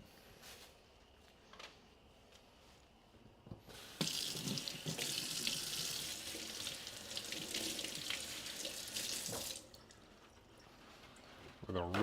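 A kitchen tap runs for about six seconds as something is rinsed under it, a close, steady hissing splash of water that starts and stops abruptly, with sparse quiet sounds before and after.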